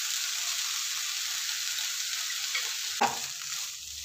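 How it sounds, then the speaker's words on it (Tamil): Coriander and dal sautéing in a pan for chutney, a steady close sizzle and frying hiss throughout with a brief stir or scrape near the end. "இதை எல்லாத்தையும் சேர்த்து நம்ம நல்லா வதக்கி எடுத்துக்கலாம்."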